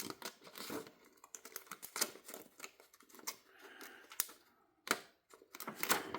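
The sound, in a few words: SOG PowerPint multitool scissors making a longer cut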